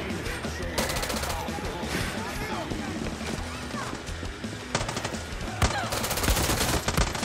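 Rapid bursts of game gunfire crackle in repeated volleys, with a voice talking over the shooting at close range.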